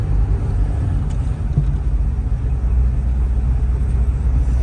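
A 1938 Chevrolet Master Town Sedan hot rod cruises through city streets, its engine giving a loud, steady, deep rumble with constant road noise heard from inside the car.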